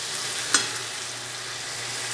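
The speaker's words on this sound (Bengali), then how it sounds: "মশলাটা দিয়ে ভালো করে কষিয়ে নেব, মশলার যাতে কাঁচা গন্ধটা দূর হয়ে যায়।" A steady sizzle of spice paste frying in a pan during stirring for a Bengali gati kochu curry, with one brief scrape of the spoon partway through, even and moderately loud.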